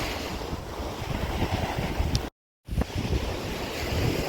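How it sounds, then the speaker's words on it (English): Ocean waves wash onto an unkept stretch of beach near the Moon Palace resort, a steady roaring surf mixed with strong wind buffeting the microphone, with a brief total dropout midway. "So this is the beach just south of the Grand."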